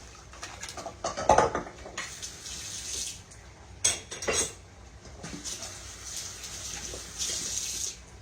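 Tap water runs into a home kitchen sink while dishes and utensils clink and knock during washing up, with a few louder clatters between quieter stretches of flowing water.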